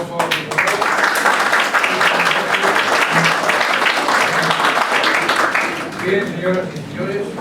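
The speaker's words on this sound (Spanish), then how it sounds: "renovamos nuestro aplauso" An audience at a lecture on illegal professional practice applauds, a loud and dense burst of clapping that runs throughout and softens slightly toward the end as a voice comes in.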